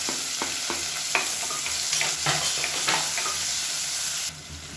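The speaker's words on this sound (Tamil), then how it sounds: "வெங்காயம் வதங்கிட்டு இருக்கும்போது" Chopped large onions with curry leaves sautéing in oil in a pan for a masala kulambu, a steady close sizzle broken by scraping stirs, then quieter near the end.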